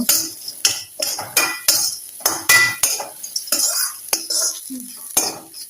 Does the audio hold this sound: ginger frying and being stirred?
yes